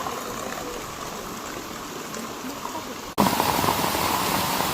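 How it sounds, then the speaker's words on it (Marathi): The Hiranyakeshi river at Amboli rushes and gurgles steadily in monsoon rain, growing noticeably louder after an abrupt cut partway through. "हिरण्यकेश नदीचं असं पाणी येतं"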